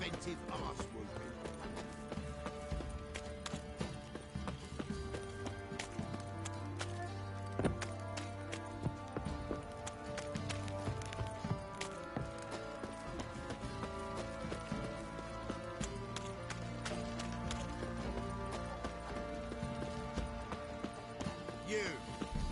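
Horse hooves clip-clopping in the video game The Witcher 3, a steady rhythmic trot of hoofbeats continuing throughout, with background music and voices talking over it.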